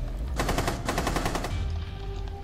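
Automatic gunfire in Rainbow Six Siege, two close, loud bursts of rapid rattling shots lasting about a second each, then a quieter hum of game ambience.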